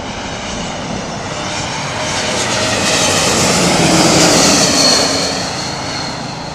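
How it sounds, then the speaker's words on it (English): KLM Embraer E-Jet airliner with Pratt & Whitney GTF geared turbofans passing by, a loud broadband engine roar that swells to a peak midway and then slowly fades, heard alone. "These are the Pratt & Whitney GTF gear turbofan."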